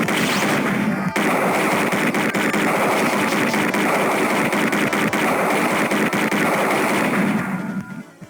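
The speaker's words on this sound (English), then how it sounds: "Keep shooting." Dense, rapid gunfire from the Sega CD game Snatcher rattles nonstop for about seven seconds. It is loud and close, with sharp repeated cracks over a steady wash of noise, then fades out at the end with no talk.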